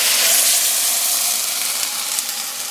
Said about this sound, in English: we'll fry these for a few minutes while we boil our water